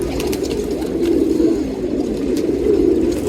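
Pigeons coo steadily and loudly at close range as they are let out of a cage, a continuous low murmur of many birds with faint flutters, no talk.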